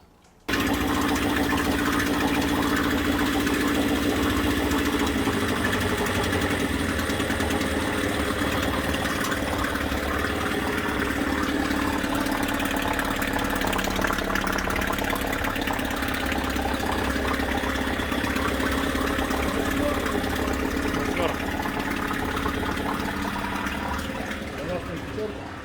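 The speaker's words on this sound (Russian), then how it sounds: "этот мотор с рабочим карбюратором запустился хорошо и начал работать стабильно." A Suzuki DT8 outboard motor fitted with a Chinese carburetor runs steadily at close range, a constant mid-pitched engine drone that holds even for the whole stretch.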